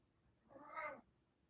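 A single cat meow, rising and falling over about half a second, fairly close and alone in a quiet room.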